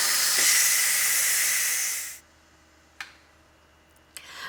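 Steam hisses loudly from a Ninja Foodi as the pressure is released after pressure cooking turkey tetrazzini, a strong close blast that stops abruptly after about two seconds, followed by two faint clicks.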